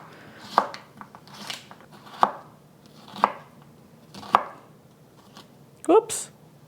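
A knife julienning half an English cucumber on a cutting board, making about five distinct, evenly spaced chopping knocks with a softer scrape near the end, close and clear in a quiet kitchen.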